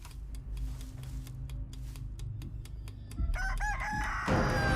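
A rooster crows and clucks near the end in a chicken horror video game, over a steady low rumble and a series of rapid ticking clicks, with no talking.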